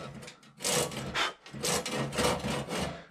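A hand blade working along an oak rafter being prepared the traditional way, giving repeated raspy wooden rubbing strokes in bursts, close and fairly loud with short pauses between passes, no talking.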